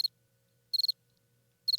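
Crickets chirping nearby in short, bright pulsed bursts, three trills spaced about a second apart over near silence.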